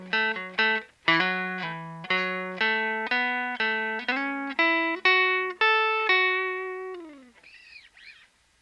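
Electric guitar plays the closing phrase of a solo: a run of clear, sustained single notes with picked attacks, bends and slides, ending in a fading, wavering tail, played alone and close.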